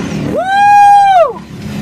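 ATV engines rev hard at a muddy obstacle course, one clear rising and sustained whine that holds for nearly a second before dropping away, over steady outdoor crowd noise.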